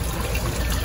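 Water trickling steadily from an indoor fountain set among Hoya houseplants, a soft continuous wash with no voices.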